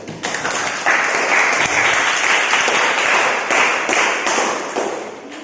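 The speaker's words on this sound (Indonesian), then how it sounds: "ya tepuk tangan dulu" A classroom of students claps together for several seconds after a physics lesson on plane mirrors, a dense steady patter of many hands in a room, fading slightly at the end.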